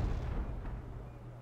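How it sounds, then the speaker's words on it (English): Mortar artillery in the video game Wargame: Red Dragon makes a low, muffled rumble of distant fire that rolls on quietly and steadily fades. "These are more mortars, I think."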